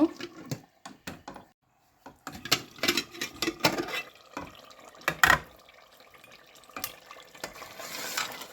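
Hot water poured into a pot of mutton curry with yogurt, splashing and gurgling in uneven bursts with short gaps, close and moderately loud, with some stirring and clatter.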